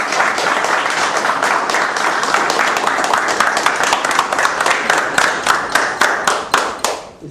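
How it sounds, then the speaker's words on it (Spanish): Audience at a cultural center gathering applauds, a full round of clapping that gradually thins into a few slower, distinct claps before fading out. "para quien pedimos fuertes y cálidos aplausos"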